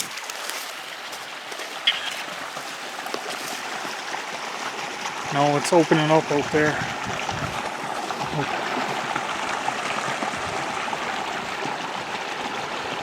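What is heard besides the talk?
river water flowing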